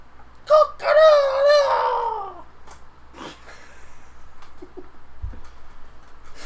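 A rooster in a tabletop role-playing game session crows once, loud and close, a rising-then-falling call of about two seconds, followed by quieter room noise and a few soft knocks.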